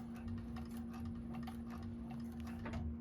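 A domestic sewing machine starting a seam on a fabric bag runs at a steady, rapid ticking rhythm, close up and alone, with a constant motor hum underneath.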